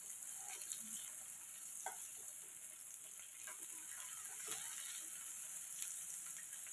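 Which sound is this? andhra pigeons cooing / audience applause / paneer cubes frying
paneer cubes frying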